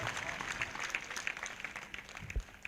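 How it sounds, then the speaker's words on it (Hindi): A congregation clapping at a live prayer meeting, a moderate, somewhat scattered round of applause with crowd noise and a voice mixed in, fairly steady before tapering off. "एक जोरदार ताली बजाएंगे इस वचन के लिए"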